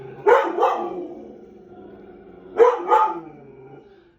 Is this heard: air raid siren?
no